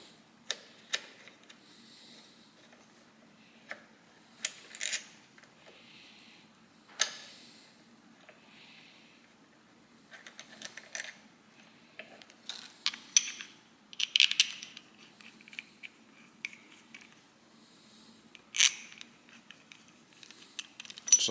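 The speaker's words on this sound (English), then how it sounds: "we will take off these two 8mm bolts that hold the brake lever assembly on" Wrench and ratchet work removing two 8mm bolts from the brake lever assembly on a KLX300SM motorcycle handlebar: sparse metallic clicks, ratcheting and small clinks of loose parts, close and intermittent against a quiet background.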